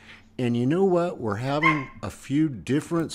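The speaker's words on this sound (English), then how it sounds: "my dog's very excited about that. You can hear her barking in the background." A dog barks and yips excitedly in the background, repeated bursts of high, whining barks mixed in with a man's close speech.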